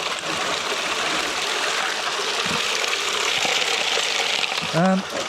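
Steady broadband rush of a flowing creek at Slaty Creek, continuous and fairly close, with a brief faint tonal call near the end.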